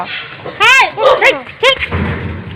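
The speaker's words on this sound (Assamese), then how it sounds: "এই ভগৱান কুকুৰকেইটা" A few sharp, high-pitched barks and yelps from dogs nearby, in quick irregular bursts over a low background rumble.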